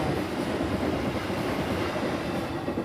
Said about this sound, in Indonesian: ada kereta lewat.